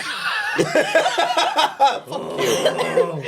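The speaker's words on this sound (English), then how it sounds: "Get your coughs out." A few short coughs mixed with light chuckling, close and clear, in quick bursts over a few seconds.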